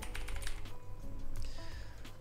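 Computer keyboard typing in a steady patter of close, quick key clicks while someone builds an ecommerce site in WordPress, continuous throughout with no talking.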